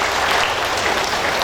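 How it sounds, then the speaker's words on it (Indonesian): A religious gathering's audience applauds a Muhammadiyah branch, steady dense clapping filling the short stretch at close range with no voices over it. "Maka tepuk tangan untuk panjenengan."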